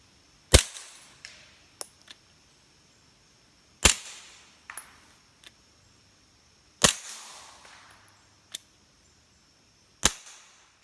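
Suppressed rifle shots from a Silencerco Hybrid firing Fiocchi 158 grain subsonic ammunition: four sharp, fairly evenly spaced reports, each followed by a short ringing tail, with fainter clicks and clatter of the action cycling in between.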